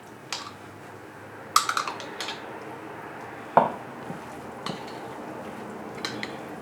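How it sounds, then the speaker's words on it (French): A spoon stirs Iranian Olivieh salad with mayonnaise in a bowl: quiet, scattered clinks and soft scrapes against the bowl, with a few sharper knocks between stretches of near silence. "je vais mélanger un maximum"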